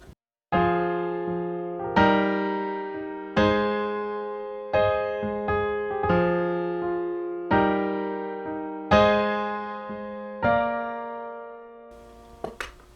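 A piano plays a slow progression of full chords, each struck and left to ring and fade before the next, ending with a few softer high notes.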